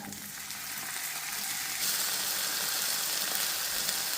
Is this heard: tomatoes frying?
yes